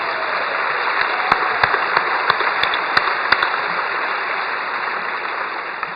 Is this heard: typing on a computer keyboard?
no